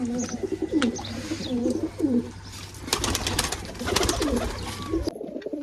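Kaldum pigeons in a loft of small boxed compartments coo in repeated deep, throaty rolling calls close by. Brief flutters and rustles break in near the end.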